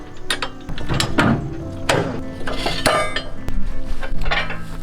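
A Wood-Mizer sawmill's landing legs are lowered with a lever, giving a string of sharp metallic ratcheting clicks and clanks in irregular bursts, close and fairly loud.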